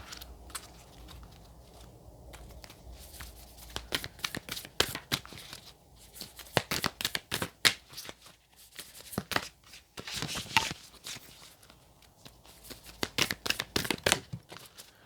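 Tarot and oracle cards shuffled by hand, a run of rapid papery riffles and flicks in bursts, close and crisp in a quiet room.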